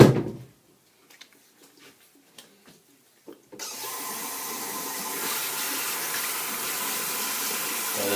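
Tap water runs to rinse a Merkur HD 37c slant razor. A few faint clicks and taps come first, then a steady, full rush of running water starts abruptly and carries on to the end.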